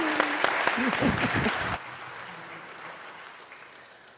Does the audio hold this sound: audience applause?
yes